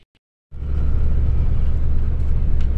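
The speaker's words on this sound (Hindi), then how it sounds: "यहाँ एक गाड़ी भी है," A car engine rumbles close by on a hill road near the ancient Akashi Ganga site, cutting in abruptly after a moment of silence and holding a loud, steady low drone to the end.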